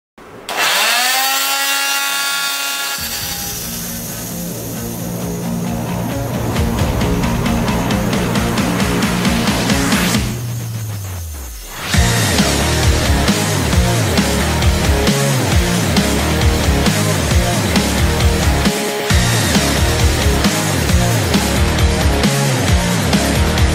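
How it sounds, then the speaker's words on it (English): Oscillating multi-tool fitted with a bimetal blade grinding against hardened construction nails: a loud, harsh buzzing rasp with rising motor whine, a brief dip near the middle, then sustained metallic scraping without speech. "last we're gonna try our bimetal blade on the hardened nails"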